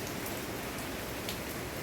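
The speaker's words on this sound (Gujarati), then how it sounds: "જુઓ જોરદાર વરસાદ ચાલુ થઈ ગયો" Heavy rain pours down steadily in a dense, even hiss that fills the whole short stretch at a constant loud level, with no voices or other sounds breaking through.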